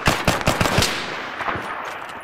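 Rapid bursts of gunfire crack out in a quick sequence of sharp shots during a firefight, loud and close at first, then thinning to a few scattered reports over a lingering noisy background, with no talk.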